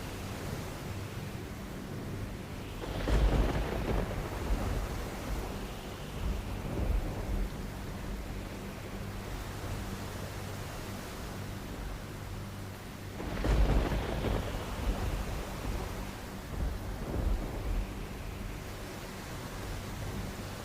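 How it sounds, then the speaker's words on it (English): Steady heavy rain hisses throughout while two deep rumbles of thunder roll in, several seconds apart, each swelling and fading slowly. "As the storm builds, louder and louder"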